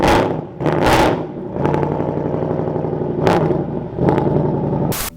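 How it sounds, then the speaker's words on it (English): Kawasaki ZX6 sport motorcycle engine revved up close: a loud idle broken by several sharp, high throttle blips that each spike and fall away quickly. "can I get revs"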